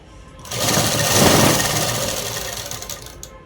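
An electric sewing machine runs a single continuous stitching pass along a dress lining, whirring loudly and close as it ramps up, holds, then stops abruptly after about three seconds.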